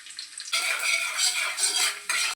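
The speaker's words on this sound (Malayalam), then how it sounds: "ഓയിൽ നന്നായിട്ട് ചൂടായി വരുമ്പോൾ അതിലോട്ട് കുറച്ച് ഇഞ്ചി ചെറുതായി അരിഞ്ഞതും അതുപോലെ കുറച്ച് വെളുത്തുള്ളിയും കൂടി ചെറുതായി അരിഞ്ഞിട്ട് കൊടുക്കുന്നുണ്ട്." Chopped ginger and garlic hit hot oil in a pan for vegetable fried rice, giving a sudden, steady, close sizzle with a utensil stirring and scraping through it.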